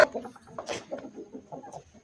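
A gamecock clucks softly in short, low bursts, a quick run of clucks close at hand in a quiet space.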